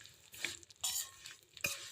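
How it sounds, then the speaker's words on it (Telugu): Vermicelli fries in ghee for a sweet payasam, soft crackling sizzle swelling in a few bursts as a spoon turns it, quiet and close with no talking. "సేమియాలు అయితే ఇట్లా ఫ్రై అవుతూ ఉన్నాయి"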